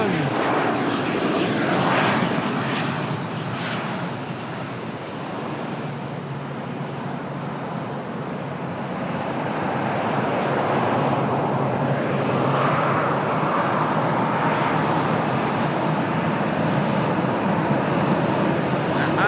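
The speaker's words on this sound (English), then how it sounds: "It's a 737-800 that just arrived from Amsterdam." A KLM Boeing 737-800 just in from Amsterdam at Lisbon Airport produces a sustained engine roar, loud and close, dipping a little midway before building again, with no voices on top.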